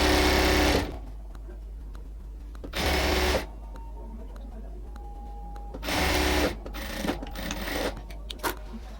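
Sari fabric runs under a sewing machine in three loud bursts of whirring stitching, each a couple of seconds long, with quieter handling noises in between.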